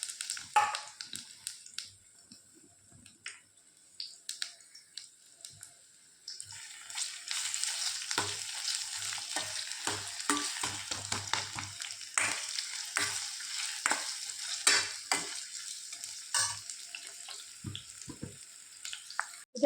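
Chopped onion dropped into hot ghee in a pan for chicken curry, a quiet start followed by steady close sizzling and frying with occasional stirring scrapes.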